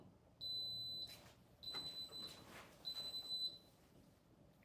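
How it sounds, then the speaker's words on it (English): An appliance gives three evenly spaced, high-pitched electronic beeps, each about half a second long, with faint clattering noises in between. "wait till my thing's done beeping"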